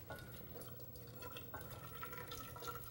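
Boiling water is poured into a pot sitting on a kitchen scale for pâte à choux, giving a faint, steady trickle and splash with no talk.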